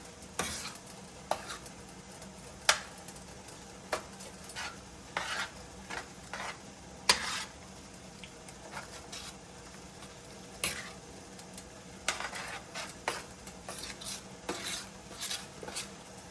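Spoon scraping and clinking against a pot as vegetable broth blended with cashews is stirred into a mushroom stroganoff over medium-low heat, irregular sharp taps and scrapes repeating close by over a low steady hum.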